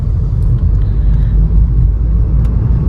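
A Toyota Hyryder AWD slows down and then picks up speed in fourth gear, heard from inside as a loud, steady low rumble of engine and road noise with no voices.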